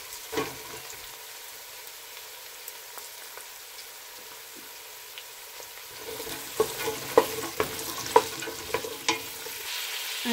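Carrot and onion sizzle in an oil pan as cabbage is being made, a soft steady frying hiss that grows livelier near the end with repeated scrapes and clinks of a utensil stirring.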